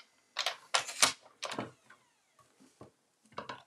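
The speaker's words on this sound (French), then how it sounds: "Je vais venir le couper un petit peu ici." Close, crisp snips of scissors cutting paper card for a folded greeting card, a few quick cuts in a cluster followed by softer rustles and a final pair of snips.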